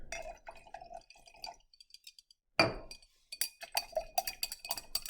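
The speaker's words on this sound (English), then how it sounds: "And I'll add some to that and give it a stir." A sodium hydrogen sulfite solution is stirred in laboratory glassware, giving bright glassy clinks and ringing taps near the mic, with a sharp clatter midway followed by rapid tinkling.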